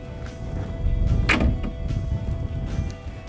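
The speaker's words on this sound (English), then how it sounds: "our nice large door with opening top window" Cab door of a Cat TH414C telehandler swinging open, a single muffled mechanical clunk and latch release close by, surrounded by low engine-like rumble with no talking.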